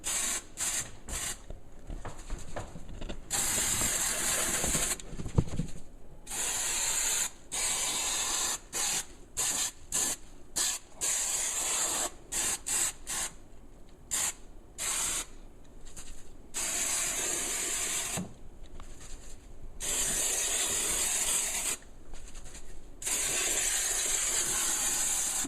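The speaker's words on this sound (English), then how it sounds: "if you're worried about glue getting sprayed in your house or whatever" Spray adhesive hissing from an aerosol can in repeated bursts, each lasting a second or two and separated by short gaps, close and steady, with no talking, while a saddlebag liner kit is fitted to an Indian motorcycle.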